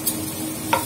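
Fresh green onion being stirred into a pan for spinach rice. Two brief, soft stirring scrapes stand out against a faint background hiss, with no talking.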